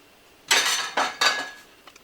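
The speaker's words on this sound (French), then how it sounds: "mes pâtes sont prêtes, je vais juste les égoutter" Homemade tagliatelle is drained while metal pots and utensils clink together in three or four close, bright clanks, with a faint ringing tone after the strikes.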